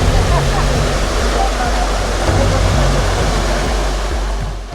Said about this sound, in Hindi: यहीं पर हमें पानी का तेज बहाव अपने पैर टिकाने नहीं दे रहा